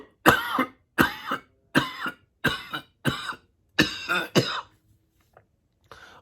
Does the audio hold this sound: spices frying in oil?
no